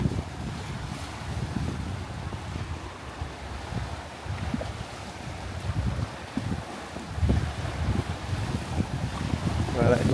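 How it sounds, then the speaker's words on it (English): Strong gale wind blasting across an exposed coastal spot with steps leading down, a constant roaring rumble with gusty surges and buffeting on the microphone, loud and close throughout. "The wind's blowing like a real gale."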